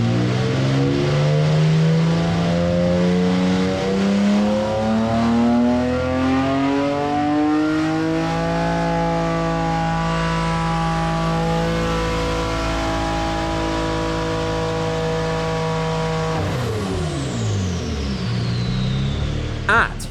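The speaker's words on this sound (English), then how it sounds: "here is some dyno footage of it creating a very, very safe 1500." A 7.0-litre quad-turbo V12 runs on a dyno, its loud, continuous engine note climbing steadily in pitch through a long pull, then dropping sharply as it backs off, with a brief whoosh near the end.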